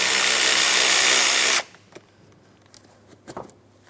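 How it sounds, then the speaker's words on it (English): A power tool loosens a 7mm hose clamp on the radiator of a 2004-2008 Pontiac Grand Prix 3.8L V6. A loud, close, steady whir runs about a second and a half and stops abruptly, followed by faint clicks and handling noises. "We're going to loosen the clamp just enough that we can slide this out of place."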